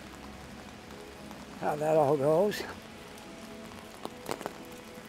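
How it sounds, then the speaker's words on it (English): Heavy rain falls during a walk along a street, a constant hiss of drops on the pavement, while someone briefly talks over it. "do a nice rain walk with the heavy rain"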